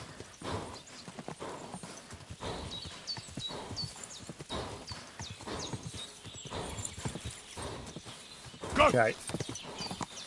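Horse hooves clip-clop in steady rhythm in the medieval game Kingdom Come Deliverance 2, with a sharp whinny near the end and someone talking over the sounds.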